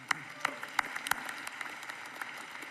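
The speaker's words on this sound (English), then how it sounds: "we'll clap for Paul" Sparse, quiet applause at a university undergraduate commencement welcoming the keynote speaker, with a few sharp, distinct claps standing out over a thin, distant patter of hands.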